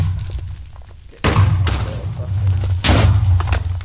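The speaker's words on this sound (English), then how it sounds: "this is on a loop, going around here, just explosions" Two loud, booming explosions from the Minecraft video game burst out about a second and a half apart on a looping trap, each leaving a rumbling decay over a low steady drone.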